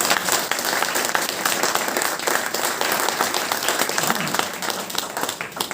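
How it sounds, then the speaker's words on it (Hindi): A crowd at a teacher award ceremony applauds, a thick wash of clapping that holds steady and loud for several seconds without letting up. "तो सबसे पहले तो हरेंद्र जी के लिए तालियां बजती है"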